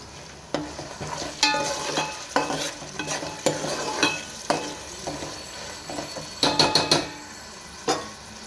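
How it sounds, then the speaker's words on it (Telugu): Green peas frying with ginger garlic paste in a pan, a steady sizzle broken by repeated sharp scrapes and taps of a spatula against the metal, close and fairly loud. "ఇప్పుడు పచ్చి బఠానీ వేసేద్దాం."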